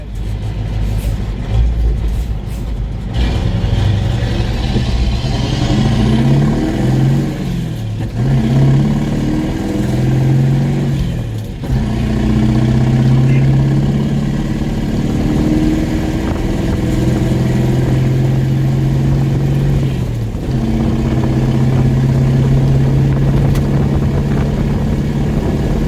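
A 1985 Ford F8000 truck with a Caterpillar 3208 turbo V8 diesel accelerates hard on a quarter-mile run, its loud, close engine roar building steadily and dipping briefly at each gear change.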